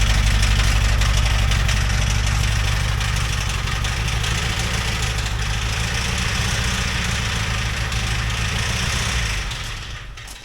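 A damaged 2.5L engine in a Jeep Wrangler YJ idles roughly with a steady low rumble and uneven knocking, running continuously before tapering off at the end.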